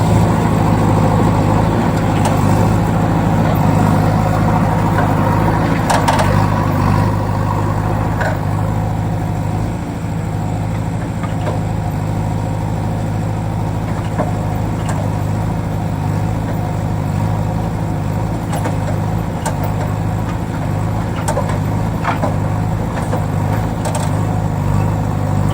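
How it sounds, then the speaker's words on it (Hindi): A JCB backhoe loader engine runs at a steady idle, its low, even drone continuing unbroken throughout at a constant level, with no voices over it. "देखो बच्चों, जेसीबी तो पहुंच चुकी है।"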